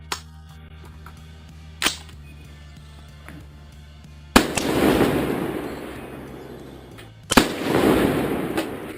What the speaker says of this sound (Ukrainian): зробив ще два постріли, прицілюючись ось тут про всяк випадок